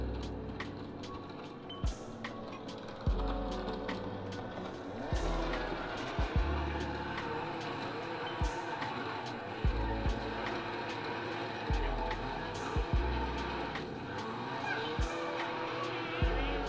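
Dodge Hellcat drift build with a subwoofer-equipped sound system, a rumbling engine punctuated by sharp exhaust pops and bangs at irregular intervals, close and fairly loud, with brief talk inside the car.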